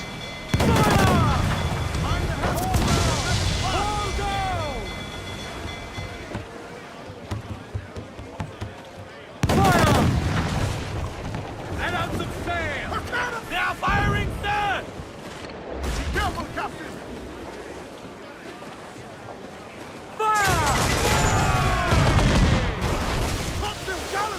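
Ship cannons fire in a naval battle in the video game Assassin's Creed Black Flag: heavy, booming volleys with sudden loud onsets, layered over continuous battle din and crew voices shouting.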